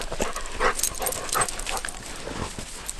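A rescue dog digging in snow whimpers and pants in soft, broken bursts over steady rustling and scraping, with several high squeaks scattered through.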